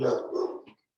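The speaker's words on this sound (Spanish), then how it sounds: "está ladrando mi perro" A pet dog barks in the background of a room while someone talks over it, the barks blending under his speech before a brief pause.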